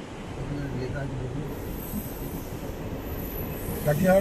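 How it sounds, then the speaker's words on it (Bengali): A train rolls through Siliguri Junction railway station with a steady, loud rumble and a thin, high wheel squeal, while faint voices murmur in the background. "কোথাকার ট্রেন এটা?"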